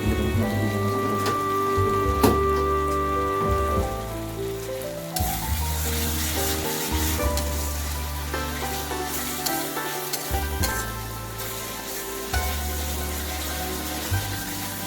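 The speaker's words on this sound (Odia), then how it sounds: "ଆମେ ଯେଉଁଟା ଫ୍ରାଏ କରୁଛନ୍ତି, ଯେଉଁ ମସଲା ବନାଉଛନ୍ତି" Masala frying in a pan for a desi chicken curry gives a steady, close sizzle that runs the whole time beneath background music.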